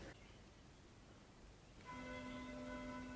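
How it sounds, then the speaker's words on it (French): Church bells ringing from a bell tower, starting partway through after faint background noise, then a sustained, fairly distant metallic ringing with lingering overtones. "C'est tout le temps les cloches, tout le temps les cloches."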